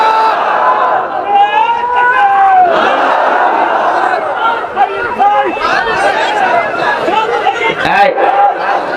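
Large crowd at a religious gathering responding to a takbir call, many voices shouting together loudly and continuously, chanting and cheering in a dense roar that fills the whole stretch.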